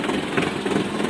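A turbocharged tractor engine runs steadily with its hand brake pulled on, giving a loud, continuous low rumble and broadband roar with no talk over it.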